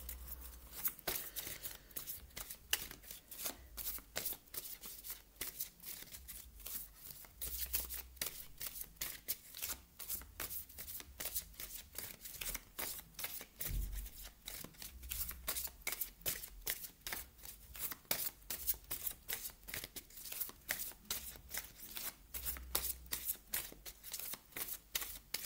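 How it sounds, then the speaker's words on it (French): Alana Fairchild oracle cards are riffled and shuffled in a long continuous run of rapid crisp flicks, close to the microphone, with short pauses and soft thumps as the deck is squared between bursts. "on va aller voir maintenant une carte des ailes de la sagesse d'Alana Fairchild."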